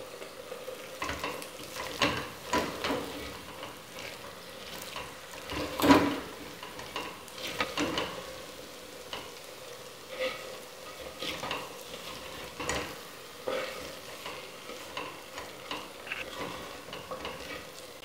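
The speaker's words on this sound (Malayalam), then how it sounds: "നന്നായി ഇതൊന്ന് യോജിപ്പിക്കാം." Thiruvathira puzhukku with curry leaves and coconut oil being stirred in a pan, a soft sizzle under repeated scraping and clinking strokes of the spoon, fairly close.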